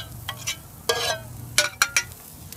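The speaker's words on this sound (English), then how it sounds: "Let's give our sop a little stir." BBQ mop sauce stirred in a pot for a backyard barbecue of pork ribeyes, a few short scraping and clinking strokes, close and fairly quiet over a low background hum.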